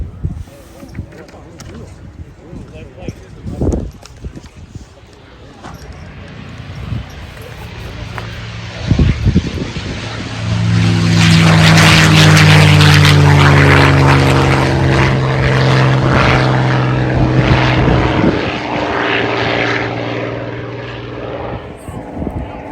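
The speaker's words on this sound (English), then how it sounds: "On the takeoff roll, here comes the P-51 Mustang." A WWII P-51 Mustang fighter on its takeoff roll at an airshow, its piston engine and propeller swelling to a loud droning roar that then fades, with an announcer talking over the crowd throughout.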